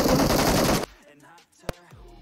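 Loud automatic gunfire rattles in a PUBG Mobile match as a rapid burst lasting under a second, cut off abruptly, then quiet game ambience and one more sharp single shot.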